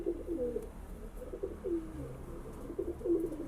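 Pigeons let out from an open loft, with soft cooing and low bird calls repeating under a steady outdoor background hum, fairly close and moderately loud.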